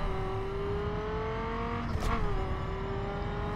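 A car engine in The Crew racing game drones at a steady high pitch, its tone dipping and rising once as it shifts, loud and continuous with no talk.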